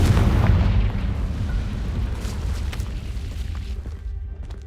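A Confringo fire spell explodes in the Hogwarts Legacy video game as a deep, booming blast that rumbles loud at first and slowly fades away.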